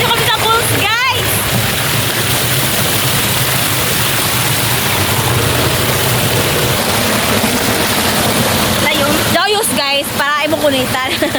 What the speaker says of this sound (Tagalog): Andito kami sa falls, guys!